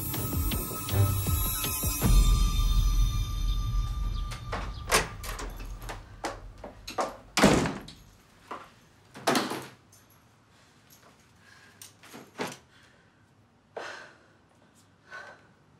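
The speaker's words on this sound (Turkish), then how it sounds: "Ayşegül, bir kapıyı açar mısın?" Knocking on a door in a Turkish drama scene, with a handful of loud, irregular raps spread out over several seconds and quiet breathing and rustling between them.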